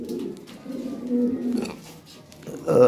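Blue pouter pigeons give soft, low, rolling coos in a few close phrases, with a louder burst near the end and faint voices in the background.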